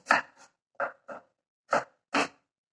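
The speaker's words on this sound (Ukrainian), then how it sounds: "Ось такими великими кубиками нарізаємо цибульку" A knife chops an onion into large cubes on a cutting board in five or six sharp, close taps, spaced irregularly with short pauses between.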